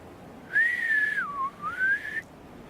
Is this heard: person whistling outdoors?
yes